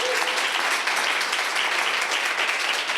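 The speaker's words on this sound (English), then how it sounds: "I want to give a round of applause" Dense, sustained audience applause fills a business event hall, loud and even from start to finish with no pauses.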